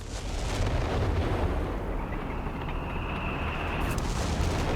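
A Vesper rocket artillery barrage in the video game Company of Heroes 3 brings a dense, continuous roar of explosions and rumbling impacts that stays loud and steady throughout.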